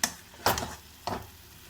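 Dondakaya (ivy gourd) and chana dal curry frying in a pan gives three short bursts of sizzling and stirring, each fading quickly into a quiet hiss.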